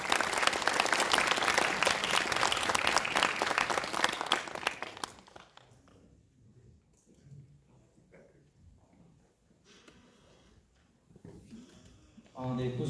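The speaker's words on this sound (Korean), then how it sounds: "여러분 큰 박수로 맞이해주시면 고맙겠습니다." An audience in a Korean lecture hall applauds to welcome a lecturer: loud, dense clapping for about five seconds, then it fades into a quiet room with a few faint shuffles before a short burst of noise returns at the end.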